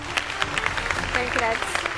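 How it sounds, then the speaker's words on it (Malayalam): An audience claps for a prize presentation involving Ansiba, a steady patter of applause lasting throughout, mixed with voices talking over it. "എല്ലാവരും ഒന്ന് കൈയടിക്കും"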